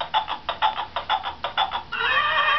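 A pressed toy horse gives a run of about eight short, evenly spaced electronic neighing bursts, close and fairly loud, then breaks into a steady, sustained whinny tone at the end, with no one talking over it.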